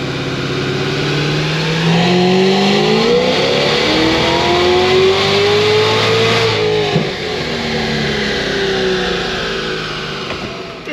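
An 1150 hp Cadillac CTS-V with bigger methanol jets under a hard acceleration pull, its engine roaring loudly with pitch climbing steadily for several seconds, then a sharp shift and renewed climb, no talk.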